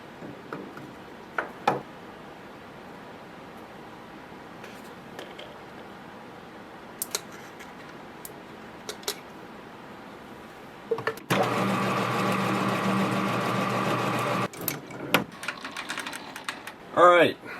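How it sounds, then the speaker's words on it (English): A lathe bores a 2-inch pin hole in a heavy steel part for an excavator thumb on a Case 170B, giving a steady grinding cutting drone of about three seconds amid shop clicks and quiet background noise. "I'm going to bore this to 2 inches and 50 thou, just to give me some clearance"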